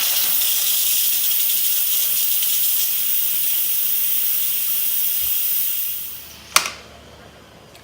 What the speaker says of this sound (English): Beans are done, so I'm going to cancel on this and I'm going to release the steam.